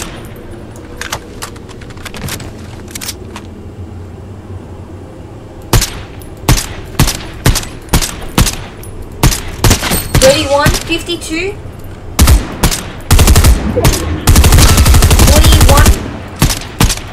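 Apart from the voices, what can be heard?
gunfire in the video game Fortnite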